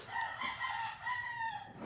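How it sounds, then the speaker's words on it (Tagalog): Roosters crow in the distance at 5:30 in the morning, their long drawn-out calls overlapping one after another against a quiet background. "ang maririnig mo is tilaok ng mga manok"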